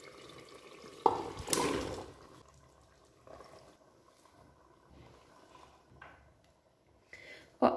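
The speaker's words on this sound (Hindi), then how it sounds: "अब हम इसमें सब्जियां डालेंगे।" Vegetables are tipped into a pan of softened tomatoes cooking for a halwai-style Annakoot sabzi, giving a loud wet splash and sizzle, then softer stirring scrapes and a few further clatters.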